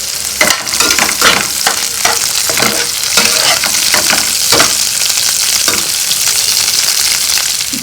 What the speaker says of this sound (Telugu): గుజ్జు రావడం కోసం ఒక చిన్న టమాటా కూడా వేస్తున్నాను.